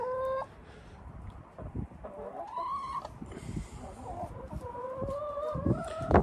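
Backyard hens dust-bathing in a peat bale cluck softly and intermittently nearby, with a few drawn-out squawking calls and low rustling, fairly faint overall.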